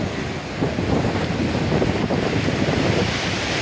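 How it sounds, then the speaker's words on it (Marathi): Sea waves surge at high tide on the Mumbai shore, a broad continuous roar of surf mixed with buffeting wind noise on the microphone, swelling slightly after the first second. "तर लाटा बघा कशा"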